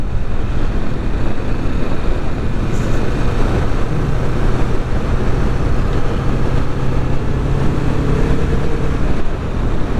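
A 2021 Kawasaki Vulcan S cruiser motorcycle being ridden, a steady engine drone mixed with heavy wind rush, loud and constant with a slight rise in pitch through the stretch.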